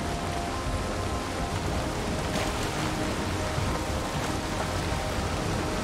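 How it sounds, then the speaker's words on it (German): Rain falls in the video game Valheim as a constant dense wash of even hiss and patter, moderately loud and unbroken, with no voices. "Natürlich fängt es an zu regnen."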